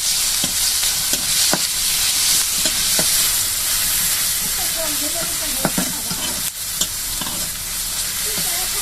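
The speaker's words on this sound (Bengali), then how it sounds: "এখন আমি কড়াইতে পেঁয়াজ দিয়ে দিয়েছি আর তেল দিয়ে দিয়েছি।" Sliced onions fry in hot oil in a wok for crisp browned onions, giving a loud, continuous sizzle broken by sharp, irregular scrapes and clacks of stirring close by.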